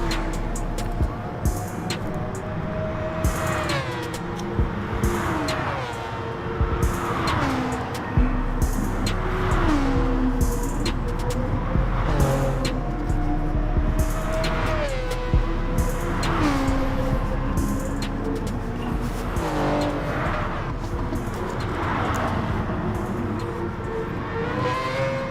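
Race car engines in GT Sport on the Sardegna circuit, loud and continuous, with repeated rising revs and gear-change dips through the whole stretch and occasional tire noise.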